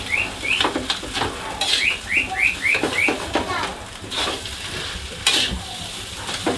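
Nasi goreng being stirred and fried in a pan: a continuous loud sizzle with rhythmic scraping strokes of a spatula, while birds chirp and whistle in a quick repeating series in the background.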